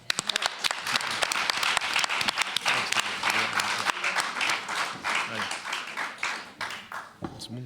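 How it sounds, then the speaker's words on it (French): An audience at a French political meeting on neighbourhood issues breaks into sustained applause, dense clapping that is loud at first and then tapers, while a voice speaks over it. "On peut l'applaudir."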